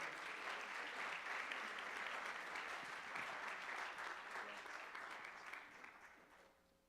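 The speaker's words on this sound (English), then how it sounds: "Let's give him another round of applause." Sustained applause from a large audience, steady and dense, fading away over the last second.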